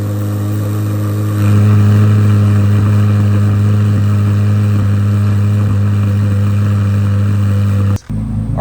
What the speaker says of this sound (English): So we're going to do a coldish start on this recovered C8